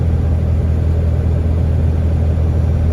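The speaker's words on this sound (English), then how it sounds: "the truck just seems like it's working a whole lot less than it was before" A Cummins-swapped diesel pickup with a new turbo tows a heavy load in a high gear, a loud, steady low-pitched engine drone and cabin rumble heard from inside, without pauses.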